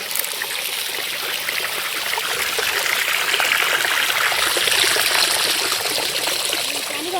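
Well water pours from a pipe on a farm in a steady, broadband rushing stream that stays constant and fairly loud throughout, with no breaks.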